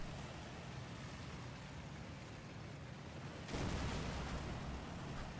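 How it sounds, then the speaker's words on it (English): Explosions and artillery fire in the World War II strategy game Combat Mission: Battle for Normandy, heard as a dense, steady rumble of blasts that swells louder partway through with no speech. "That's lots of explosions."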